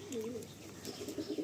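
Pigeons in a rooftop loft, soft low cooing close by and fairly faint, with light ambient noise and no talk.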